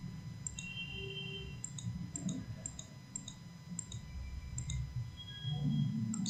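Computer mouse clicks sound faint and close while working in PowerMill software, coming as a few spaced single and double clicks over a low steady hum.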